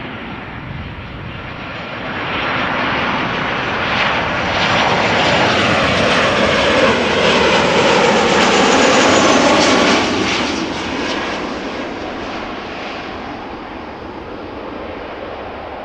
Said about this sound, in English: buckle up, 747 incoming, the first queen of the day